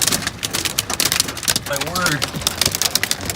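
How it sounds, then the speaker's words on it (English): Big hail and rain batter a truck in a desert storm, a dense rattling drum of impacts on the roof, with a person briefly exclaiming partway through. "That is some big hail."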